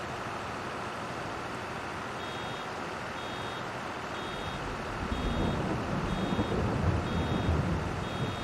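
A vehicle reversing alarm in the farming game Farming Simulator 22 repeats steady, evenly spaced beeps over a constant engine rumble, loud and close throughout.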